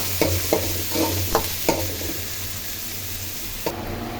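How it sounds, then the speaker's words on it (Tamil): Sliced onions sautéing in a pan for a sardine (mathi meen) fish curry, with steady low sizzling and a few sharp stirring scrapes early on, fairly quiet and close, no talk. "இது பாருங்க, வெங்காயம் நல்லா வதவிச்சு"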